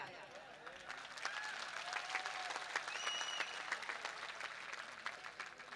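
An outdoor mushaira audience at Muria Hatt Maidan breaks into applause, a dense, fairly distant crowd clapping that holds steady for several seconds with faint voices mixed in.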